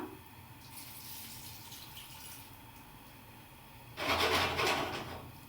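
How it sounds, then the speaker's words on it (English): Water is poured into a pot of beans, a short splashing run near the end that comes in loud and close after a quieter stretch of kitchen background. "We add a little bit of water."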